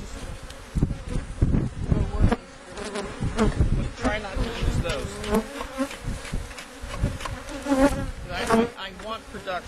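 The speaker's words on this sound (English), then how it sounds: "You can see by opening up the hive, bees are flying." Honey bees swarm up from an opened hive in a close, wavering buzz that swells and dips, while a person speaks briefly over it.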